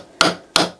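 Hammer striking a heavy-duty chisel during a bedroom renovation, two sharp, loud metallic blows about a third of a second apart, each ringing briefly before decaying.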